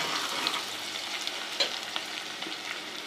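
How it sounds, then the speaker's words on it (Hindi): Onions frying in hot ghee, a steady soft sizzle with occasional light stirring clicks and pops, close and continuous. "घी काफ़ी गर्म हो चुका था, हल्का सा ब्राउन करेंगे।"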